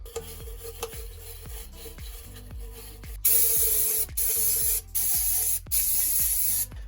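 Cleaner sprays onto a Paslode nail gun in four long hissing bursts with short gaps between them, loud and close, after a stretch of quieter clicking and handling.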